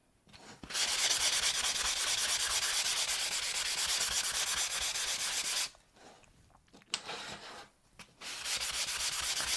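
Steady, loud abrasive rasping of sanding a 3D-printed pot, continuous with a couple of brief pauses before resuming.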